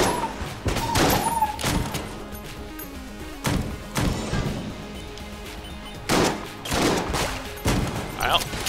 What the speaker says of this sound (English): I always shoot early on those little squid people.